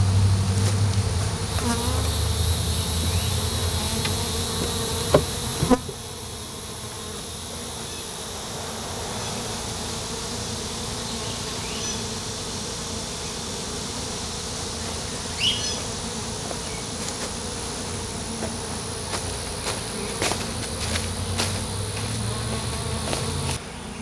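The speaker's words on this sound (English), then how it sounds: "Looks like a bunch of other bees are coming in" A dense, steady drone of many honey bees buzzing close by, continuous throughout with a low hum underneath.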